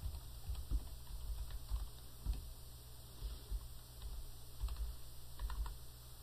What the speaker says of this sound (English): So I'm going to type something like this.